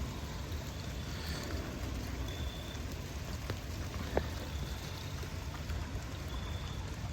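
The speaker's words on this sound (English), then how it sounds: "You hear the raindrops." Soft, steady patter of rain falling outside, with scattered drops ticking nearby against a constant wet hiss.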